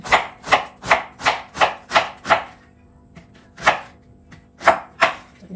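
Chinese cabbage being chopped with a knife on a board for lumpiang Shanghai: a quick run of seven crisp, evenly spaced cuts, a brief pause, then a few more scattered chops, close and clear with no talking.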